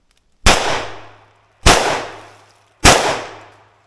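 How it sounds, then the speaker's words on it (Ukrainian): Three sharp AK-74K rifle shots ring out alone, evenly spaced about a second apart, each a loud crack followed by a short decaying tail. "в тому ж самому положенні я буду стріляти і три постріли"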